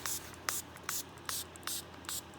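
A spray bottle mists liquid onto bath bomb mixture in a bowl in about six short, quiet hissing bursts, evenly spaced and close by.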